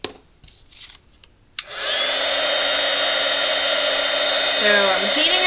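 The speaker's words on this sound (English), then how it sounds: "So I'm heating it with the heat tool." A heat tool switches on with a sudden steady blowing roar, like a small hair dryer, held close while warming a handmade card, following a few faint taps and handling noises.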